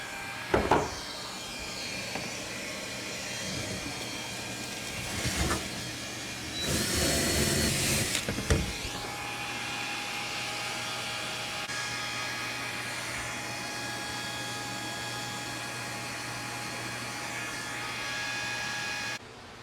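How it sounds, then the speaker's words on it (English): A shop vacuum runs with a steady whine and hum during fiberglass repair on a leaking airboat hull, with a few knocks and a louder rushing surge in the middle before the drone settles back. "turn on the vacuum."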